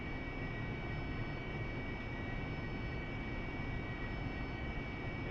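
An AV-8B Harrier jet taxiing in the DCS flight simulator, a steady loud engine whine and roar with a constant high tone, unbroken throughout.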